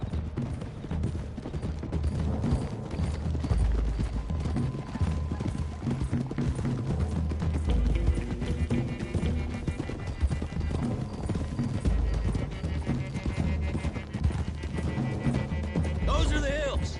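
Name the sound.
horses galloping, from a video game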